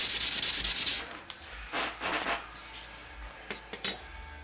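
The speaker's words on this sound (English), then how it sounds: "Looks like I'm going to sand it just a couple more times." Sanding a propeller blade by hand: a rapid burst of about eight loud rhythmic rasping strokes, followed by a few slower, softer rubs and scattered light clicks.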